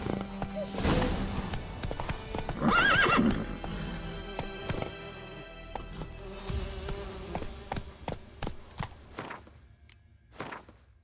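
Roach, Geralt's horse in The Witcher 3, gallops with clear, close hoofbeats and lets out a loud whinny early on, then the hooves slow and thin out toward the end, with brief voices mixed in.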